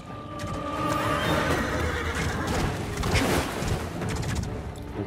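In the video game Lords of the Fallen, a horse whinnies loudly amid clip-clop hoofbeats and a dense, rumbling game soundscape, the neigh standing out near the start, with no speech heard.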